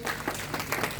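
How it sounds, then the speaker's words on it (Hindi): Audience applause fills a seminar hall, a steady wash of many hands clapping at once, fairly loud and continuous through the whole short moment with no break. "आप सबकी जोरदार तालियों के बीच"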